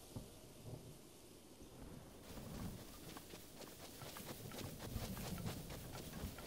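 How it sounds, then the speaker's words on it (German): Distant thunder rumbles low and faint inside The Legend of Zelda: Breath of the Wild, mixed with a steady hiss of rain that grows slightly louder partway through. "Ich hab Donner gehört."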